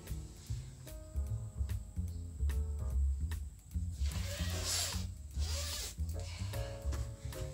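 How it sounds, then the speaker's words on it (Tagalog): A zipper is pulled open or shut in a few quick rasping strokes, fairly quiet, with music playing underneath. "Zipper ko."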